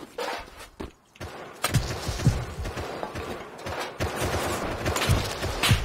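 Sharp gunshots in the survival game Rust during a base raid defence, a rapid double tap and scattered single shots mixed with footsteps and movement noise, fairly close and loud.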